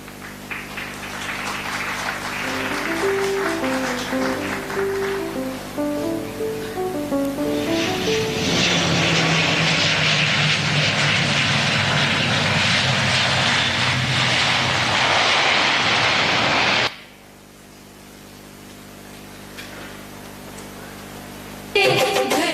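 An airplane flying sound effect plays during a school stage production, following music. A loud, steady engine roar swells in and holds for several seconds, then cuts off abruptly as music resumes.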